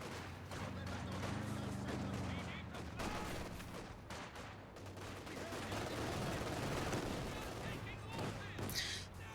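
Conscript squads fire light machine guns in a wartime strategy video game, a continuous dense rattle of automatic fire with distant blasts, heard under a commentator's steady talk.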